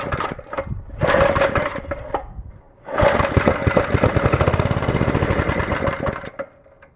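An old Briggs & Stratton 2 hp engine with a rusty fuel tank sputters and runs unevenly, surging loudly in short bursts, dropping briefly, then catching again with a close, rapid chugging before fading out.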